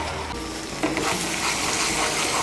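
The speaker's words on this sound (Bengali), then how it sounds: "মিশিয়ে নিয়ে মশলাটাকে আরেকটু ভালো করে কষিয়ে নেব।" Spice paste fries in oil with a little sugar mixed in while being cooked down for Bengali motor dal muitha. A continuous close sizzle grows a bit louder after the first second, with faint stirring and no talk.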